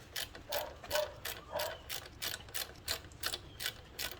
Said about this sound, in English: ratcheting wrenches are a great thing